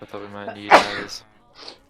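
Short sharp sneeze from a person during a Minecraft play session, a loud burst in the middle of conversational talk, followed by a faint breathy sound.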